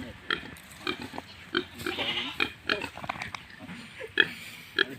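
Pigs on a pig farm in Darrang, Assam, giving repeated short grunts and squeals close by against a busy barn background, with quiet human voices in places.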